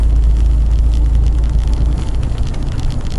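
A black truck with a freshly reinstalled transmission runs along a back road near Mount Crawford, Virginia, its steady low engine and road rumble continuous and close throughout, with no one talking.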